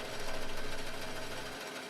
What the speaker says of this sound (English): go over to the bandsaw and cut out our little circle for Lightening McQueen to sit on